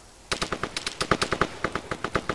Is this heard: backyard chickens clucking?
no